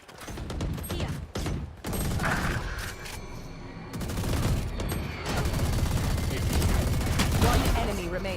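Repeated gunfire from a tactical shooter video game, bursts of rapid shots and single cracks running loud and continuous throughout, with game sounds and speech mixed underneath.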